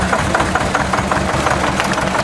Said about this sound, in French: c'est le moteur marins